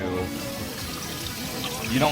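Cold tap water rinses a screen printing screen, a steady running and splashing wash that fills the clip, with a brighter gush rising near the end.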